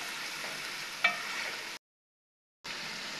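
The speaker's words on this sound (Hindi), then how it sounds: "अच्छे से भून लीजिएगा 1 से 2 मिनट, कम से चलाते रहिएगा" Beef frying in a pot with garlic and ginger paste for nihari, a soft steady sizzle with a stir clatter partway through, cut by a short silent gap before the frying resumes.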